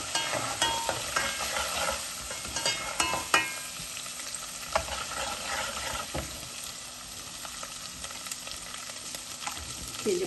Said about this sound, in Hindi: मसाले को भून के 5 मिनट में भूनूंगी।